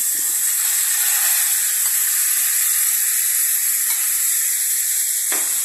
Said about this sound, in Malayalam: ഈ അരിഞ്ഞു വെച്ചിരിക്കുന്ന ചക്ക ഇതിനകത്തോട്ടിടണം. ഇതിനകത്തിട്ടിട്ട് നന്നായിട്ട് വഴറ്റിയെടുക്കണേ.